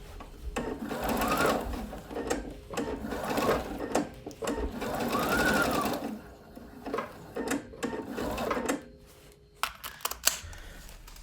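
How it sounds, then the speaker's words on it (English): A sewing machine stitches in repeated runs as holes and tears in a BDU jacket are mended, with bursts of rapid needle chatter separated by short pauses and handling of the fabric, close and steady. "I would also mend any sort of holes, rips, or tears using the sewing machine"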